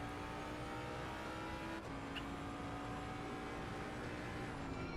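Mustang GT3 race car engine in a racing video game, a sustained high-pitched drone at steady revs with a quick gear change partway through, continuous and alone.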